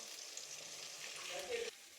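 Eggs and chopped onions fry in hot oil in a kadai, giving a soft, steady sizzle with a brief louder stir near the end and a faint voice beneath.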